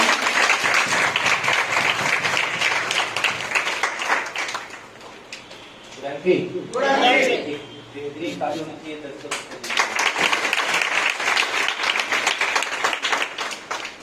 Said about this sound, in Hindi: तो आप सबकी जोरदार तालियों के बीच में इस टीवी के ओनर, आपकी अप्लाई मिस्टर दानिश खान को मैं बुलाना चाहूंगी मंच में।